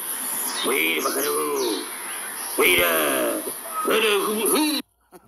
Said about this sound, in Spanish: Este es el sonido que hacen las ardillas cuando quieren asustar a los pájaros.